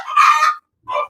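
An Elba chicken crows loudly and up close in a short, strained burst, pauses briefly, then gives a second shorter call.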